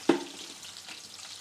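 Garlic, onion and panch phoron dropping into hot oil, a sharp sizzling burst at the start that settles into a quieter steady frying hiss, with no talk.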